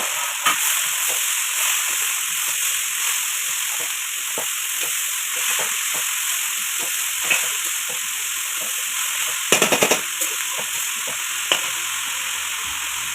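Chopped ponka greens tipped into a hot pan sizzle and hiss steadily up close, with occasional sharp clinks and scrapes of stirring.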